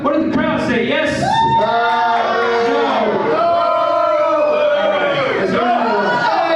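Comedy show audience shouting back loudly in a dense, sustained roar of mixed voices, with rising whoops and hollers layered throughout.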